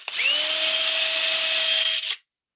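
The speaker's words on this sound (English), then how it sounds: "All you need is that little dent in order that the small drill will follow it." A small power drill runs steadily for about two seconds at a constant high whine while drilling a hole, loud and close, then stops abruptly into silence.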